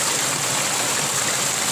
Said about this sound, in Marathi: आणि झोत बघा केवढा झाला